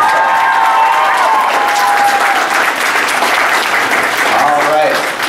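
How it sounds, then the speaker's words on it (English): Loud, dense audience applause for performers at an anime cosplay contest, sustained and even across the whole stretch with a light murmur of crowd beneath. "let's give a big round of applause to our performers"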